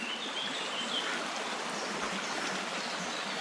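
A small river in the Narvau gorge flows steadily, a broad, even rush of water heard close and continuous with no voices.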